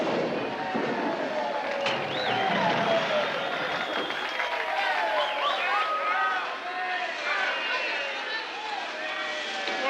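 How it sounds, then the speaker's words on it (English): Sustained applause from factory workers on an auto assembly line as the last truck goes down the line, a broad wash of clapping with scattered whistles and cheers, fairly loud and continuous. "Everybody's applauding."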